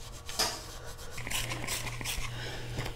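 Close, steady rasping as rusty motorcycle exhaust tubes and catalytic converter welds are rubbed down, repeated scrubbing strokes with no talk over them.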